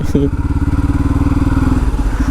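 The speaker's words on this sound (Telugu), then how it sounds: "ఎగ్జాస్ట్ సౌండ్ కూడా మంచి క్యూట్గా వినిపిస్తుంది." A Bajaj Pulsar 250 motorcycle exhaust putters with a fast, steady rhythmic pulse, close and fairly loud, briefly joined by a short voice-like tone at the start.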